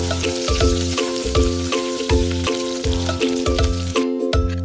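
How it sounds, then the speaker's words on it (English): Chopped onions fry in hot oil in a pot during campus cooking of Ghanaian dawadawa jollof, a continuous loud sizzle with repeated rhythmic knocks of stirring against the pot under steady musical tones. "we toss in our chopped onions and give them a stir."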